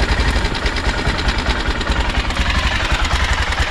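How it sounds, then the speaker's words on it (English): A BMW F650 Funduro motorcycle engine running at idle, a loud, close, steady rapid chugging pulse that keeps going without a break. "Let's just fire it up."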